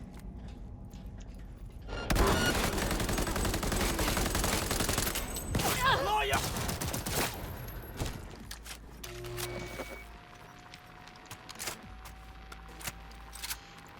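Video game firefight: a dense, sustained burst of rapid gunfire and explosions lasts several seconds, then gives way to quieter scattered mechanical clicks and distant shots.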